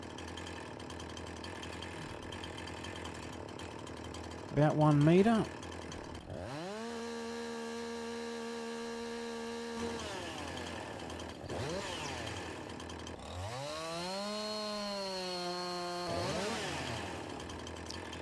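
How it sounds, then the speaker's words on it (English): Chainsaw from Farming Simulator 19, a steady tonal engine whine that revs up and holds while limbing a small log, rising and falling in pitch, with someone talking over it. "You can also remove the branches using the chainsaw"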